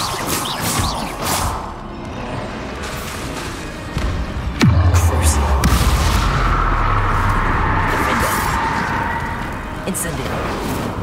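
A Bombarda spell explodes in Hogwarts Legacy with a single sharp, loud blast and a deep rumbling tail, set amid other combat noise with voices talking over it.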